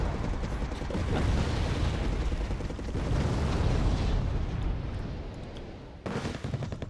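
Mortar fire booms repeatedly in a Wargame AirLand Battle match, a loud, dense barrage of thuds and blasts with a brief lull near the end before the firing resumes; no voices.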